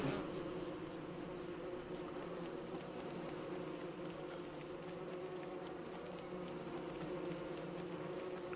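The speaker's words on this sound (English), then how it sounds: "Go away, killer bees." Killer bees in the survival game Don't Starve Together keep up a dense, steady swarm buzz throughout, loud and unbroken, with no talking over it.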